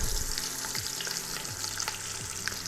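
Beef brisket sears in hot avocado oil inside an Instant Pot, giving a steady close sizzle and crackle with a few low thumps and scrapes as the meat is pressed down.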